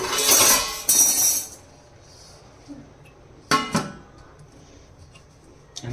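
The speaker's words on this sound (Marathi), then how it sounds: "यावर आपण आता झाकण ठेवूया" Lid set onto a pot of village-style chicken biryani, a couple of sharp metallic clinks and clatters early, then quiet with a few more knocks of metal cookware, close by.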